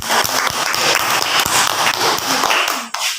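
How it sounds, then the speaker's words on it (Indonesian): Students in a classroom clap together in a dense, steady burst of applause lasting a few seconds, close and loud, with a few sharper taps standing out before it cuts off abruptly near the end. "Tepuk tangan dulu untuk bersiapkan."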